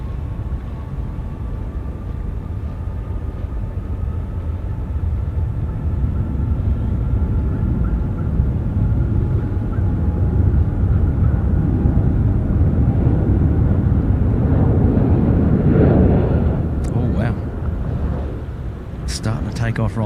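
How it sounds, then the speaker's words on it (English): A Cathay Pacific Boeing 747-8 makes its takeoff roll at Sydney Airport, a loud, steady low jet roar that builds gradually and peaks near the end, heard from a distance outdoors. "Takeoff roll now."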